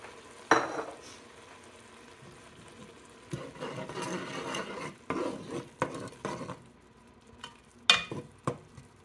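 Blue crab soup cooking in a pot as sherry is added, heard as quiet stirring scrapes and light clinks of a utensil over a soft bubbling sizzle, with sharper knocks near the end.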